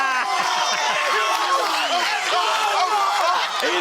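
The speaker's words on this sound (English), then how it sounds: "the crowd loves it" A crowd roaring and cheering at a live fight event, a dense continuous wall of voices with excited yells rising above it, heard close and loud throughout.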